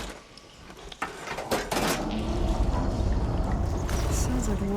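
Water flowing and splashing through pipes in Horizon Forbidden West, a steady rushing wash that swells after a sharp clank near the start and continues loudly to the end, with a few metallic knocks and no talk.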